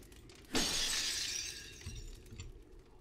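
A thrown object smashes against a wall in the video game Underworld Ascendant, one loud sharp glassy shatter with a bright ringing spray of debris that fades over a second or two, followed by a couple of faint low thuds.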